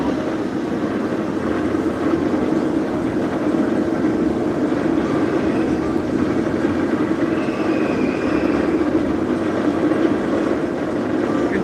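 A steady low rumble of a roller coaster train rolling along its track at Knott's Berry Farm, continuous and fairly loud, with a faint mechanical whine.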